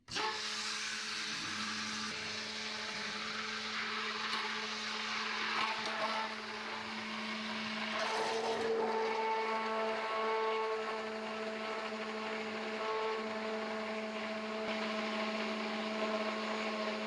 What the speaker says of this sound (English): blend the broth until all the fat is nicely emulsified